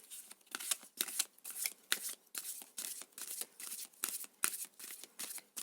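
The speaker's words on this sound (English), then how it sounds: "I'll shuffle them this way." Oversized tarot cards are shuffled by hand in repeated quick riffles and slides, a soft papery flutter in rhythmic bursts about twice a second, close but quiet, with no voice over it.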